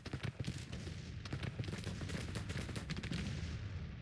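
A Civil War battle in the strategy game Grand Tactician: dense, continuous crackle of musket volleys mixed with heavy cannon booms, fairly distant and sustained throughout.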